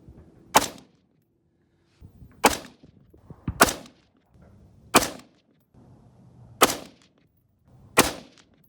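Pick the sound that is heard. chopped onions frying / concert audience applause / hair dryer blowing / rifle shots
rifle shots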